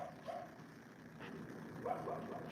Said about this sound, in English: Can you guys hear the dog?